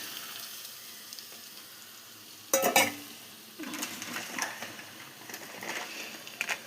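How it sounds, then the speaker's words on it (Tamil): Eggs cracked into a pan of shredded cabbage for an egg-and-cabbage podimas, giving a brief burst of clatter and sizzle followed by steady, moderate frying crackle close by. "4 முட்டையை இதில் உடச்சி ஊற்றிடலாம்."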